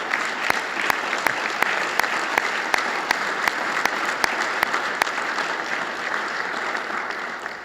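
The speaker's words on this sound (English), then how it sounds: "let's give them a round of applause" A university audience at a State of the University address applauds its alumni, with sustained, even clapping from a large crowd and a few sharper claps standing out near the front.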